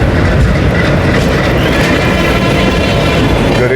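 The 12875 Neelanchal Express runs at speed past Lucknow with a steady, loud, close-up roar of wheels and wind that fills the whole stretch without a break.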